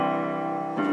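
A sustained synthesized do chord from Chrome Music Lab rings steadily and evenly, with a fresh chord attack near the very end.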